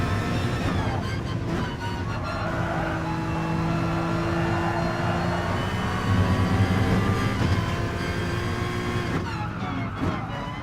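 A race car engine howls in a GT Sport race in the lower-league manufacturer series, with revving and shifting pitch as cars run close together, loud and continuous with brief tyre skids.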